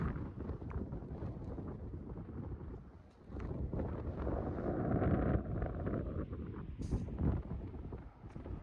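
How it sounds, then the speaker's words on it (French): Strong wind on the rim of Mount Bromo's crater roars and buffets the microphone in a continuous, heavy rush that swells in the middle and never lets up. "Il y a énormément de vent,"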